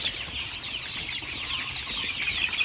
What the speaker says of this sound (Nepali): मलाई आनन्द लाग्छ कुखुरासँग खेल्न,